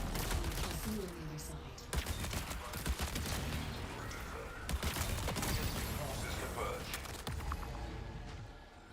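Video game gunfire in a chaotic firefight: dense bursts of shots and sharp cracks run almost without pause over loud game noise, with voices talking through it.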